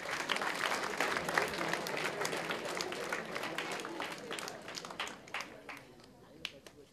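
An audience at a tech developer conference applauds steadily for several seconds, dense overlapping claps that stay fairly even before thinning out toward the end.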